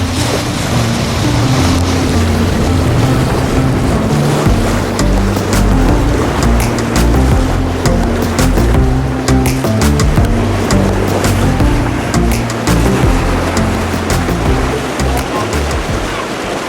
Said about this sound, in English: It's amazing we're sailing.